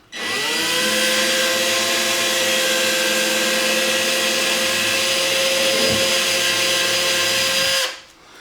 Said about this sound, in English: I need to just drill one hole after it.